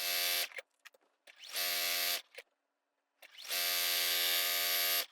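A sewing machine stitches a quarter-inch seam through flannel for a mitered-corner baby blanket, buzzing in three bursts of high-speed running with short pauses between, close and alone.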